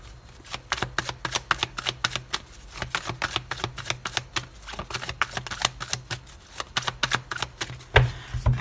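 Tarot cards shuffled and cut by hand, a close, fast, even riffle of crisp card flicks running steadily, ending with a firmer tap as the deck is cut.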